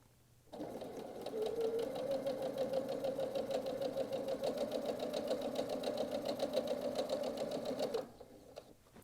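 A sewing machine stitches quilt squares together for a nine patch apron, running in one steady fast-rhythm hum for about seven and a half seconds, close and alone, then stopping.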